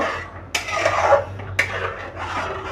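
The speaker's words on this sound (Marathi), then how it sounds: "हे आपल्याला सतत हलवत राहायचे आता अशा प्रकारे आपण मिडियम टू लोवरती हे फिरवत राहायचे" Spoon scraping and clinking against a pan while a wheat mixture is stirred over medium-low heat, with a few sharp metallic knocks among soft rubbing strokes, close and clear.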